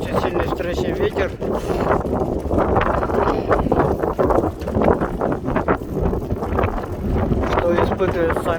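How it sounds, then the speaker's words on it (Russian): A hard headwind on an open road beside a marathon route roars into a microphone carried by a cyclist, giving a constant heavy, fluttering low rumble with gust swells, with a voice talking through it. "В эту сторону очень сильный встречный ветер."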